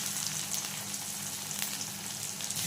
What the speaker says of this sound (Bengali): শিমটা হালকা ভাজা হয়ে গেছে